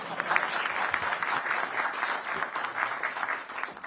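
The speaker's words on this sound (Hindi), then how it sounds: "इस पर तो ताली तो बजनी ही चाहिए" An audience at a defence innovation event in New Delhi claps steadily after a line in a speech, with dense, sustained applause filling the room for several seconds and no talking.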